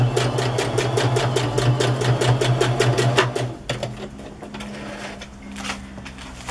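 A domestic sewing machine stitches together a junk journal paper collage, its rapid rhythmic needle chatter running steadily and close for about three seconds before stopping, leaving a quieter low hum and faint handling noises.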